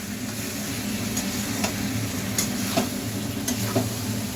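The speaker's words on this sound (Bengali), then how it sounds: "এবার নাড়ছি। পুরো মশলাটা ভালো করে আলুর গায়ে মাখিয়ে নিলাম।" Spiced potatoes for aloo dum are stirred in a pan over a continuous loud sizzle of frying, with occasional sharp scrapes and taps of the spoon against the pan breaking through.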